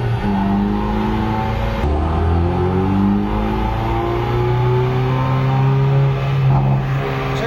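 A Hyundai i30 N with a stock N-Performance exhaust revs hard through repeated rising sweeps, loud and close, its engine note climbing and falling in pitch across several pulls.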